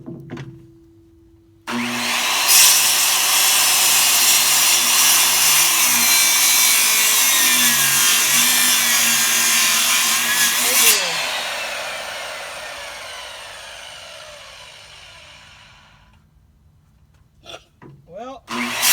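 Chainsaw cutting framing lumber for a small goat barn floor frame, one long loud continuous cut lasting about nine seconds, then the engine idling down and fading, with brief knocks at the end.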